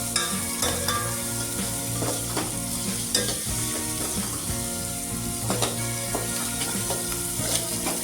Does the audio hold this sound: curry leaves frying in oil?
yes